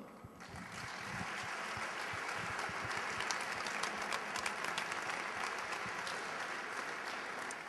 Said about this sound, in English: let's give a round of applause to Party Time